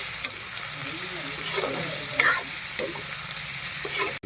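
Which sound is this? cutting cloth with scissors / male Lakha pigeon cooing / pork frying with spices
pork frying with spices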